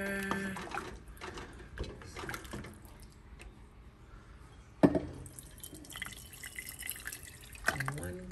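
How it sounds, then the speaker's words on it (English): Soft liquid sloshes, drips and pours as New Orleans yakamein broth is stirred and ladled from a pot with a one-cup measuring ladle, faint and intermittent with a few sharper knocks, while a person talks. "Give it a stir."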